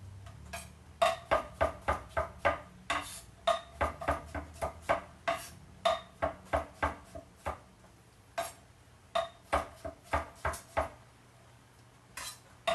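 Knife chopping berries on a kitchen board: rapid bursts of sharp, close taps in uneven runs, separated by brief pauses, fairly quiet and with no talking.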